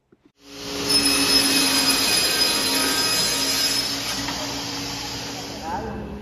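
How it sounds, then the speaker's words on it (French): After two quick clicks, a powerful vertical panel saw motor spins up and cuts wood panels with a loud, harsh, sustained whine and hiss that slowly eases near the end. "L'employé utilise une scie à panneau verticale pour découper les panneaux de bois."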